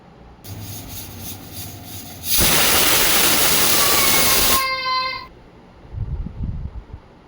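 A pressure cooker cooking mutton lets out a loud, sustained steam whistle with a rushing hiss that cuts off sharply, followed by quieter rattling and bumping as things settle.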